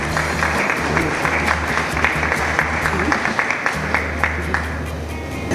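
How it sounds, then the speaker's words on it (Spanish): Applause welcomes a speaker at a university event, a dense crowd clapping steadily and close for several seconds, with a low background hum underneath and no voices over it. "Recibimos con un aplauso al doctor Armando Quiroz."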